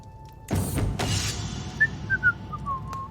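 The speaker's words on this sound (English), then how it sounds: "Innocent whistling. Innocent whistling." A short, innocent-sounding whistled tune follows a couple of dull thuds, the whistled notes rising and falling quietly in a Crusader Kings 3 scene.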